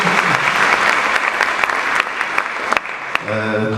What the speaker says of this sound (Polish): To oczywiście brawa dla Pani.